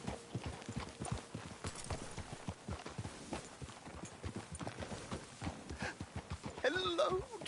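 Steady clip-clopping of horse hooves at a walking pace in the video game Red Dead Redemption 2, close by, with a short burst of other sound near the end.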